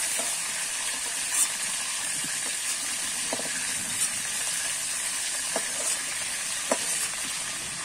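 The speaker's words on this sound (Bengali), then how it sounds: "দেখো আমি এরকম করে কিন্তু চিকেনটা ভেজে নিয়েছি" Chicken pieces frying in a pan for a spicy tomato chicken dish, giving a steady broad sizzle and hiss with faint occasional stirring clicks, no voices.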